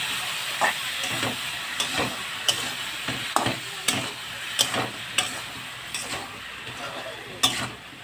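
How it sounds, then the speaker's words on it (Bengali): A spoon scrapes and stirs salted pumpkin and prawns frying in a pan at a steady rhythm, with each stroke clacking against the metal over a constant sizzling hiss. "এবার আমি এগুলো একটু ভাজা ভাজা করে নেব"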